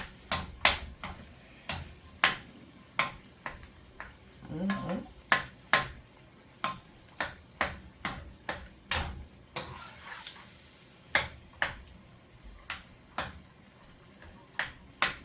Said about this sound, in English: Just gonna chop it up just like this.